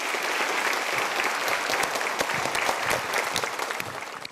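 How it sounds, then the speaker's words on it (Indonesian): A seminar audience claps loudly for three participants, dense even applause running throughout with no voices on top, tapering slightly at the end. "Kita berikan tepuk tangan untuk 3 orang ini."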